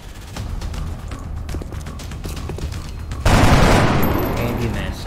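A volley of gunfire in the turn-based strategy game XCOM Enemy Within, rapid repeated shots followed by a loud sustained burst that fills the soundscape and slowly tails off.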